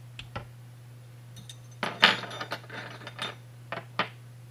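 Homemade spinning helmet camera mount for drift cameras turning on its pivot, giving a few short plastic clicks and ratcheting rattles in quick bursts over a steady electrical hum.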